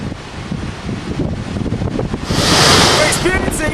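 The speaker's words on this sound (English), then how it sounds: "We're definitely seeing some stronger winds." Strong winds from Hurricane Isaac's outer eyewall roar steadily across the microphone, a loud, buffeting rush that swells into a heavier gust near the end.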